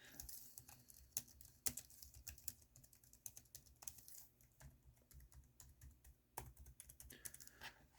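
Fast, quiet typing on an Asceny GK61 hot-swappable mechanical keyboard with black switches, clustered key clicks at an uneven rhythm, heard close up with no voices.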